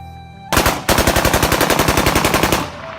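A string of firecrackers set off on a street. One loud bang is followed by a rapid, even chain of sharp, close pops lasting about two seconds, then the sound fades.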